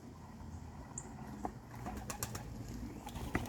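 Young pigeons, including grizzles, cooing faintly in a loft, soft low murmurs with a few sharp taps and rustles and one brief higher chirp.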